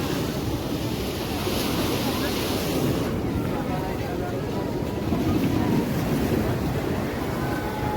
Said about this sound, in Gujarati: આવી રહ્યા છે મોજા દરિયાના